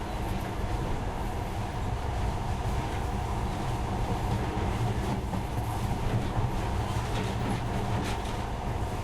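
A monorail train running in the video game Metro: Last Light, a steady, continuous rumble and rattle of rolling cars with faint rhythmic clicking, close and unbroken throughout.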